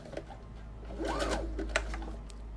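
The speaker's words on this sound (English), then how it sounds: "I'm just going to stitch this icing on, is what I'm calling it." A sewing machine runs a zigzag stitch, attaching an icing piece of fabric onto a kids' donut pillow: a steady, close mechanical whir with rapid needle clicks lasting under three seconds, with no talking.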